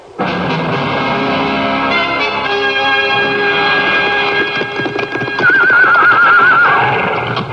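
A horse whinnies loudly and at length in a radio drama, with hooves clopping and shuffling beneath, ending in a shrill, quavering neigh.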